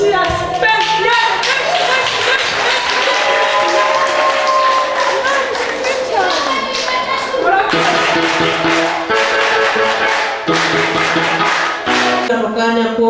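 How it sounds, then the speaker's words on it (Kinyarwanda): Wedding guests at a Rwandan wedding clap and applaud in a sustained, loud burst, with music and voices running underneath throughout. "Mwongere mumpere Imana amashyi ya sipesiyale."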